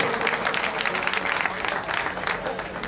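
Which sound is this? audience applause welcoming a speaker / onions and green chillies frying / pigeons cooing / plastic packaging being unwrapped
audience applause welcoming a speaker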